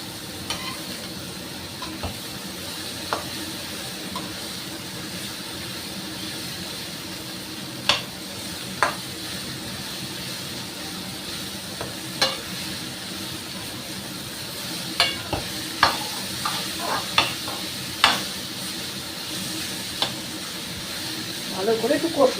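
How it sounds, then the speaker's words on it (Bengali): Ridge gourd fried with spices in a pan, a steady sizzle and hiss with scattered sharp spoon knocks and scrapes that grow busier toward the end, close up, while a voice talks at times. "এই ঝিঙের সাথে মশলার সাথে বেশ একটু নরম নরম করে কষাবো।"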